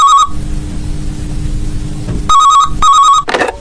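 Telephone ringing close and loud in repeated electronic bursts, one ring, a pause over a low hum, then two more rings in quick succession.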